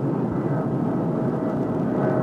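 A TWA Flight 841 airliner's engines roar in a steady, loud, broadband rush during an emergency pull-up, with a constant heavy rumble and no talk.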